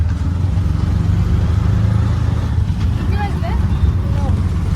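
Auto rickshaw engine running steadily during a ride, with a loud, continuous low rumble and wind buffeting throughout, and faint tonal chirps from outside near the end.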